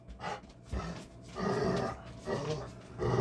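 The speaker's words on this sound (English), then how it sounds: "There's a dog walking past the RV, so Yuke is going crazy right now" A dog inside an RV growls and snorts at another dog walking past outside. Rough, throaty bursts repeat close by in uneven waves, swelling louder toward the end.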